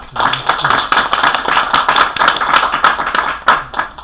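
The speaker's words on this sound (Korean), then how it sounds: "박수가 아주 커져서 감사합니다" Audience members at a lecture on stress counseling clap in a brisk, uneven burst of applause that stays fairly loud and close for several seconds.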